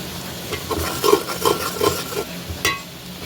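Curry with spices and cumin being stirred in a pan, a spoon scraping in steady rhythmic strokes over a low sizzle, close and clear with no talking.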